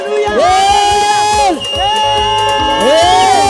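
Crowd at a live church service at Theophilus Church, Njatha-ini, cheering loudly with repeated high, wavering ululations that rise and fall in several long sweeping bursts over a busy hubbub of voices.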